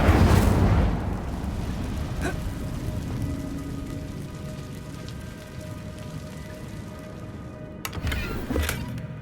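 The Incendio fire spell in Hogwarts Legacy, cast in a cave, lands as a loud opening burst of flame that settles into a crackling, hissing burn, with a second flare near the end.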